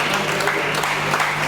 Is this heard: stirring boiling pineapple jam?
no